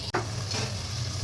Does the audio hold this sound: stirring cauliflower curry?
yes